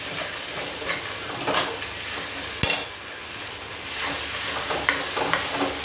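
Garlic fries in a pan with a constant loud sizzle, broken by scraping stir strokes and a sharp knock of the utensil against the pan. No one speaks.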